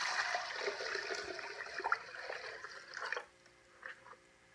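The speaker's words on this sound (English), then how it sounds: "We got 4 liters of water. We're going to add it" Four liters of cold water pour steadily into a container of pike brine, a continuous close splashing gush for about three seconds that then cuts off, leaving faint drips.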